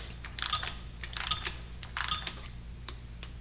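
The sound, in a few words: torque wrench ratchet clicking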